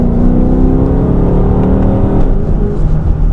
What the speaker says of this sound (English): Downshifting once, downshifting twice.